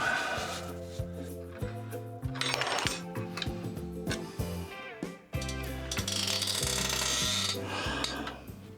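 Socket ratchet tightening the bolts on a motorcycle topbox rack, with repeated clicking of the pawl and metallic clinks, close and intermittent over background music.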